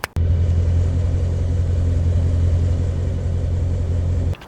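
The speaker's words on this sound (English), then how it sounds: "the tire spinning and the flag waving around as we do our burnout" A car doing a burnout with its tires spinning on the road: a loud, steady low engine rumble held for several seconds, close, cutting in and out abruptly.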